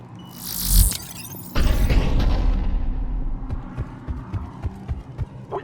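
Cerberus cannon fire in Mass Effect 3: two heavy booms go off close together, then a lingering low rumble punctuated by repeated softer thuds in the distance.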